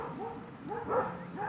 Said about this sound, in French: il y a un combat de chiens et de sangliers.